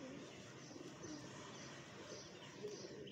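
Pigeons cooing nearby, soft repeated low coos over a busy outdoor background with light chirps mixed in, fairly faint and continuous.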